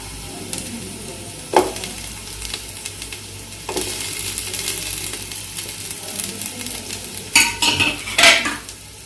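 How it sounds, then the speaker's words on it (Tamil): Onions for vegetable biryani sautéing in a pan until golden, a continuous close sizzle with occasional scraping stirs and clinks of a metal spoon against the pan. "வெங்காயத்தை இப்படி கோல்டன் கலர் வர வரைக்கும் வதங்க விட்டு"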